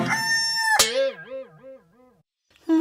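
Cartoon chicken sound effect from an animated comic: a loud, close rooster-like crow followed by wavering clucking calls that fade out, then a brief return of the call at the end, with no talking.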